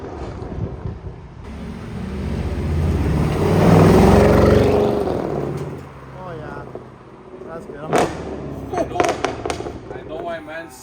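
Mercedes C63 AMG W204 with an H-pipe exhaust accelerating casually, a deep rumbling drone swelling loud as the car passes close, then fading while people talk near the microphone amid wind noise.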